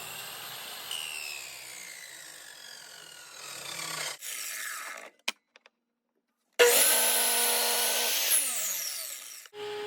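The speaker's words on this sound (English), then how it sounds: "Next, I'm going to use my miter saw to cut these big blocks to length." A miter saw cuts big wooden blocks to length in two loud passes, each a harsh buzzing cut that ends as the blade winds down, with a short quiet gap between them.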